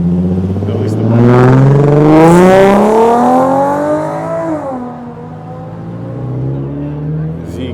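A Toyota Celica pulls away from a New Year's car meet in Japan, its engine revving up with a rising, loud whine, then easing off and fading slightly while another rev follows.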